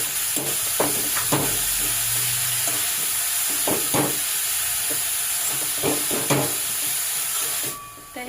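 Grated carrot for halwa is stirred in a pan, a loud continuous sizzle and hiss with intermittent scraping strokes of the spatula, fading slightly at the very end.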